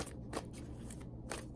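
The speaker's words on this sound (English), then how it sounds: "But when it's a whole clump, it's just uncoordinated shuffling." Tarot cards shuffled by hand, a soft steady papery riffle running throughout with a couple of brighter bursts, close and fairly quiet, with no talking.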